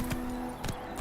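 Roach the horse's hooves clip-clopping in The Witcher 3 video game, three close, evenly spaced hoof strikes at a walking pace.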